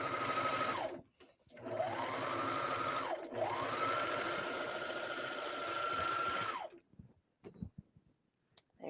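A serger stitches a tank top in three close, whirring runs: a short burst, a longer one, then a sustained stretch that winds down and stops, leaving quiet handling sounds.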